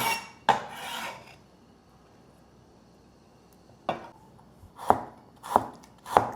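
A knife chops ginger on a cutting board in a kitchen, with one sharp cut early on, a pause, then four crisp strikes spaced apart, fairly quiet and alone.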